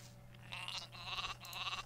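Sheep in the Gothic 2 video game bleat in two or three drawn-out, quavering calls over a quiet steady hum, fairly faint and with no talk.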